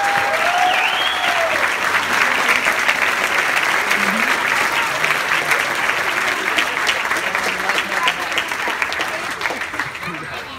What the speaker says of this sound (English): Let's have another round of applause for those great speakers